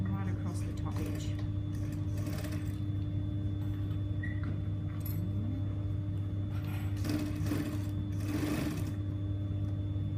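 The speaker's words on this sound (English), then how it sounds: "Double turn and do an edge stitch right across the top edge." A sewing machine runs a double-turned edge stitch along the top edge of a skirt lining hem, giving a steady low motor hum through the whole stretch with faint mechanical ticking, while a person talks over it.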